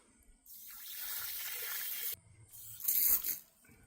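Water is run through a paint sprayer nozzle to rinse it, producing a hissing spray burst that stops abruptly, followed by a shorter, louder splashing gush.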